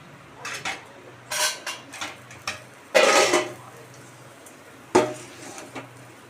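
Fried eggs are lifted one by one onto a plate, making several clinks and scrapes of utensils against dishes. The clatter comes in irregular bursts, with quiet gaps between.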